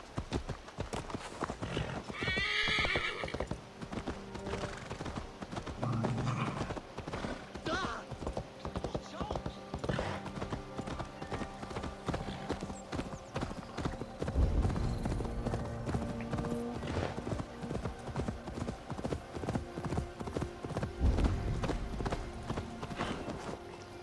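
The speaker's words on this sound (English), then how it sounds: "Check out the new horse" Steady clip-clop of horse hooves at a trot with a couple of whinnies, over game music and ambient sound, with occasional talk, in the video game Assassin's Creed Valhalla.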